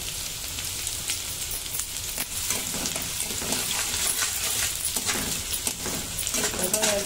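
Garlic and ginger fry in hot oil for a vegetable stir fry, a dense, close crackling sizzle that keeps going throughout with some stirring and rising pops toward the end.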